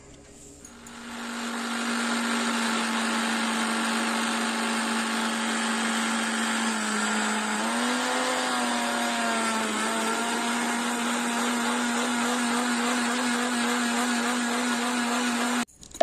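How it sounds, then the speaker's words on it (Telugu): A mixer grinder whirs loudly and steadily for about fourteen seconds, blending watermelon pieces with sugar and salt. Its pitch dips briefly midway before it cuts off sharply. "ఇప్పుడు మిక్సీ పట్టుకుందామండి"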